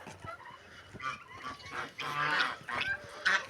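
A mixed flock of geese and other fowl at a restaurant's poultry yard gives scattered honks and gabbling calls, growing louder and denser toward the end.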